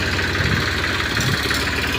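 A tractor engine idles nearby with a steady, loud, throbbing low rumble that holds constant and sounds on its own.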